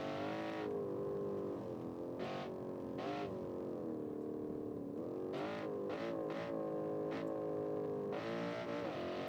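Video game car in BeamNG accelerating hard, a steady loud engine drone with rising and falling revs and several sharp surges throughout, no talk over it.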